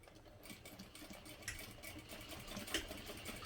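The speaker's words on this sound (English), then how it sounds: "here we're going to sew directly along that seam at the top" Sewing a vinyl bag, a machine stitches straight along the top seam, its motor whirring softly and faintly with a few light knocks rising above the low hum.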